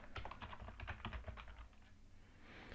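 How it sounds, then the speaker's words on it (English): Light, quick typing on a computer keyboard, a rapid patter of soft key clicks that slows and pauses near the end, close and quiet with no voices. "And I could type decision."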